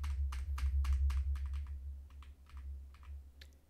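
Someone types a command on a computer keyboard, with a quick burst of crisp key clicks that slows into sparser, softer taps over a low steady hum.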